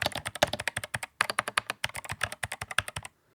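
Rapid, crisp keystrokes on an 8bitdo Retro mechanical keyboard rattle along in a steady close-up burst, briefly pausing once before continuing, with no voices.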